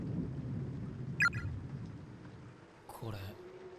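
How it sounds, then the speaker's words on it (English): Thunder and rain in the horror game Corpse Party: a low, muffled rumble with soft rainfall underneath, fading quieter midway, with brief game sounds over it. "As thunder and rain grow in intensity"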